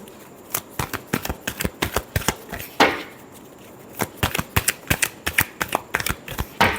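Tarot cards shuffled by hand in sharp, rapid riffling bursts, close and crisp, with a brief pause midway before the quick flicking resumes, no talking.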